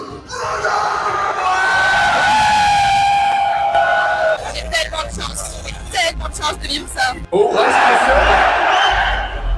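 A large crowd of fans at the Fortnite FNCS Globals 2025 World Cup cheers, yells and whoops loudly in waves, with a close commentator's voice talking over the roar at the start.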